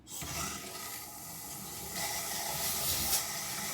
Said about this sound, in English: let me turn on the faucet